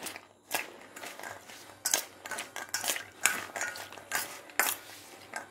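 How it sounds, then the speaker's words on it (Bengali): A spoon stirs a mixed chana chickpea snack in a bowl, making repeated scraping and clinking strokes at an uneven rhythm, close and fairly loud. "সব কিছু দেওয়া হয়ে গেছে, ভালো করে মিক্স করে নেব।"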